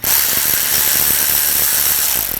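A power driver spins a T20 socket to back out side panel screws on a 2004-2009 Audi A4 during an AC condenser replacement, giving a loud, steady whirring buzz that runs unbroken for a couple of seconds.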